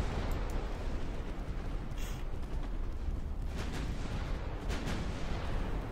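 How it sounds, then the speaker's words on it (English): Battleship guns fire in Ultimate Admiral Dreadnoughts, main batteries and secondaries together: a dense, continuous rumble of naval gunfire with a few sharper booms breaking through. "the full weight of our firepower, including all the secondaries, is now going on this guy"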